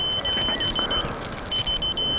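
A high-pitched drone locator buzzer beeps in quick repeated bursts, pausing briefly in the middle before resuming, with faint outdoor background noise.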